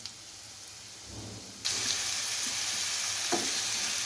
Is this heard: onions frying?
yes